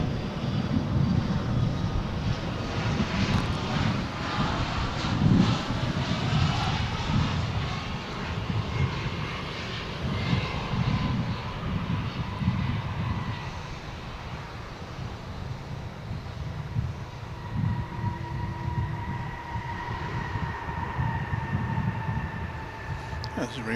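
A UPS cargo plane on flight 2783 departs DFW International Airport with a long, rumbling engine roar and some wind buffeting the microphone, fading gradually as a thin whine lingers, while people talk intermittently over it.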